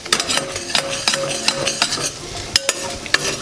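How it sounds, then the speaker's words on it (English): A spoon scrapes and knocks steadily against a pot as a thick simmering Thanksgiving filling is stirred, with close, rhythmic clinks and a soft bubbling sizzle underneath. "While you're still stirring, you want to throw it down a little bit."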